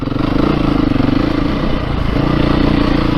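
A 2022 Beta 430 RR-S dirt bike engine putting along at low throttle in third gear, a loud, close, steady thumping drone with a brief dip midway.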